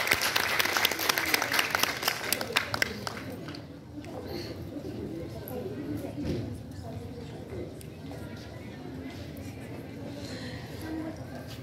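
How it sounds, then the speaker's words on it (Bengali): Applause at a college annual fest: a burst of clapping from an audience, loud at first and then tapering into softer scattered clapping, with people talking underneath. "একটা জোরে হাততালি"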